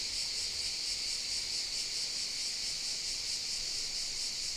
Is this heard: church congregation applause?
no